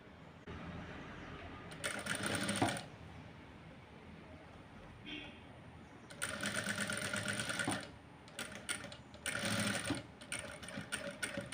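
A sewing machine stitches a neatly folded fabric edge in three loud bursts of rapid, even running, separated by quieter pauses with faint handling sounds.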